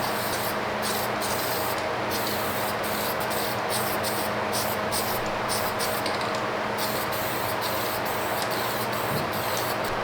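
Spray graphite coating hisses steadily from an aerosol can onto a cast iron exhaust manifold, a continuous close hiss with small pulsing bursts and no talking.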